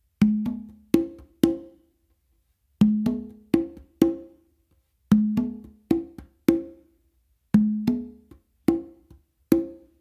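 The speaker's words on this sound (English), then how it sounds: "So it's a ghost note, accented open, ghost note, accented open." Conga tumbao played solo in clusters of sharp hand strokes, soft ghost notes leading into ringing accented open tones on the tumba, repeating in a steady funk pattern with short gaps between phrases.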